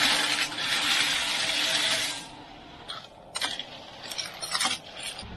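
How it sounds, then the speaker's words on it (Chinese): Salt and washed river snails go into a boiling pot of water with scallion, ginger slices, chili and Sichuan peppercorns. A steady rushing hiss of boiling comes first, then stops and gives way to scattered, sharp clinks and taps of shells dropping in. "水开了，往里放盐，放入洗净的田螺。"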